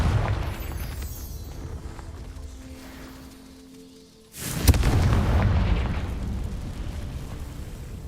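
A Confringo explosion spell cast in the Hogwarts Legacy video game goes off as a sudden, loud booming blast about halfway through, following quieter game ambience and leaving a rumbling tail.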